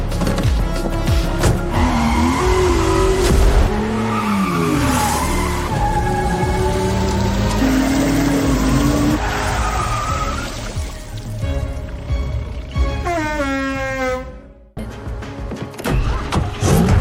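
Car tires squeal and skid loudly and continuously in an AI-generated driving scene, with wavering pitched screeches and engine noise throughout and a brief dip near the end.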